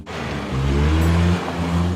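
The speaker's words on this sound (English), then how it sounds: "Loud engine noise, not much speed so far." A 2011 Mitsubishi Outlander Sport engine revs up under full-throttle acceleration, a loud, close, droning roar that rises in pitch and holds strong without speech.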